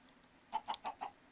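Four short clucks from a Minecraft chicken in a modded FTB pack come in a quick, steady burst after a brief quiet moment. They sound near and distinct, with no voices.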